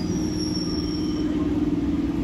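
At Bangaon Junction station an arriving train gives a steady, low rumbling drone with a thin high whine held above it, continuous and fairly loud, with no clear speech.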